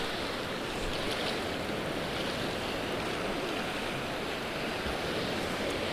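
White-water surf breaks at sea, a dense continuous roar and hiss of churning waves with wind noise across the microphone, steady and loud throughout.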